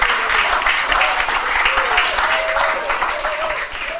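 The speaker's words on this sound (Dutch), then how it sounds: "Dames en heren, graag een applaus voor Ad Meijer namens de SP." Studio audience applause for an SP political candidate on a local politics show, a dense, steady wash of many hands clapping, loud and sustained throughout before easing slightly at the end.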